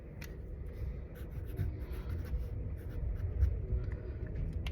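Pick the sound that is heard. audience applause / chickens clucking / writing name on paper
writing name on paper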